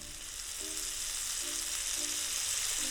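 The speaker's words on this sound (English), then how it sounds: "Let's add olive oil to the pan and our eggplant." A single eggplant slice fries in olive oil in a pan, with a steady hissing sizzle that stays even and close throughout.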